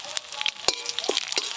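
Five-spice, bay leaf and dried chilli sizzling in hot mustard oil, a close, steady crackle with sharp pops scattered throughout and no talking.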